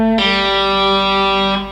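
One distorted electric guitar note from a riff rings out loud and sustained, bent up and back down before a quick pull-off as it fades.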